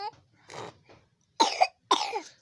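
Two sharp, close coughs in quick succession, preceded by a few softer breathy throat sounds.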